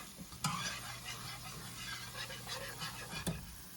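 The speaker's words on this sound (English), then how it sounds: "I'm just going to let the raw flour taste cook out of the flour" Flour browning in sausage grease in a pan makes a low, steady sizzle and bubbling close by, with occasional scraping stirs and a couple of sharp ticks, and no voices.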